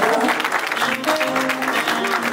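Audience applause at the investiture ceremony of a president and council, a brief burst of steady, fairly loud clapping with some voices underneath.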